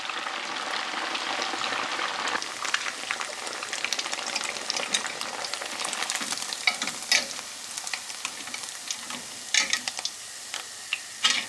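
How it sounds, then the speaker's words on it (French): Tofu frying in a pan gives a dense, steady sizzle with crackling pops and spits throughout, growing spikier toward the end, close and fairly loud with no talking. "Donc on va mettre le tofu à frire aussi."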